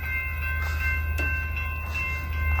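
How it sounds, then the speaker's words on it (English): A steady low rail rumble and faint high ringing as Amtrak San Joaquin train 716 to Bakersfield rolls past, cab car in front, heard at a steady level outdoors at a bayside park. "here comes Amtrak San Joaquin train 716 headed to Bakersfield"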